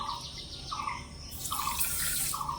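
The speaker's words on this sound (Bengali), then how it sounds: "আর দিয়ে দিচ্ছি এক কাপ জল" Water poured from a cup into sugar and cracked cardamom pods while making a syrup for khaja, a steady near pouring and running wash with faint chirping tones in the background.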